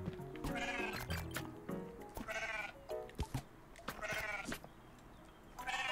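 A goat in the mountain-climbing game Surmount gives several loud, close bleats in separate bursts, with short pauses and a few sharp knocks between them.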